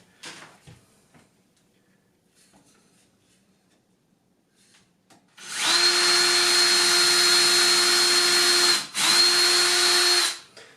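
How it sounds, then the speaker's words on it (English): After near silence, a power drill on a slow setting drives a screw into wood, whining steadily for about five seconds, briefly pausing, then resuming; loud and close. "You notice I got the drill on the slow setting"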